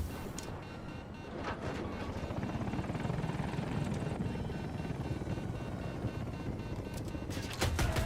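A helicopter in the Battlefield 2042 video game makes a steady, loud rotor and engine roar from start to finish, with a few short sharp bangs near the end.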